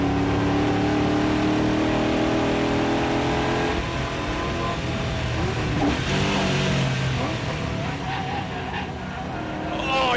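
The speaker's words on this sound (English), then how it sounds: "you can just hear the Yokohama tyres resisting and protesting, but Fisher feeling the pressure" V8 Ute race cars at Winton roar past with engines revving hard while Yokohama tyres squeal and slide, forming a loud, continuous wash of racing noise.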